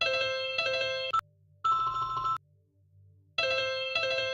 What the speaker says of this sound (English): We need a new ringtone, man.